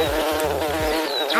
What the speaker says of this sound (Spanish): Esta es una abeja.